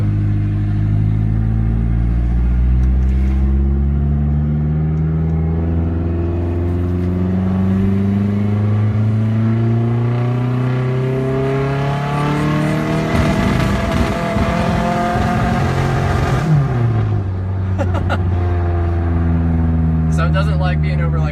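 A race car running a stock ECU with bigger injectors revs up repeatedly, its loud engine note climbing and falling in pitch in waves, struggling and roughening near the top, close and continuous throughout, with a voice talking over it.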